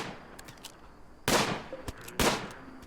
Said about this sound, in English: So we'll get everyone out here helping to shoot.